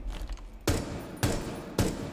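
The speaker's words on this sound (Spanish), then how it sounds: "Vale, voy a pegar un tiro, vais a escucharlo" Three sharp gunshots from Rainbow Six Siege with night audio mode on, evenly spaced about half a second apart, each a loud punchy crack with a short tail, following a quieter stretch.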